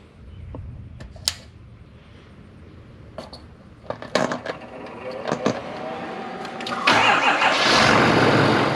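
A Ford Power Stroke diesel engine cranks on a hardwired 220 amp Harbor Freight jump box, with clicks and clunks, then bursts of cranking that catch and settle into a loud, rough running rumble toward the end.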